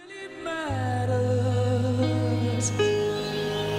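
Grand-style piano, sustained chords and a low held bass note ringing clearly, with a soft voice-like tone entering over the top, steady and full throughout.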